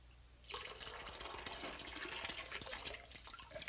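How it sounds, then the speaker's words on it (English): Water runs into a hose being filled for siphoning, a steady broadband rush of liquid that starts after a brief quiet moment and continues evenly at close range with no talk. "I'm going to fill this hose."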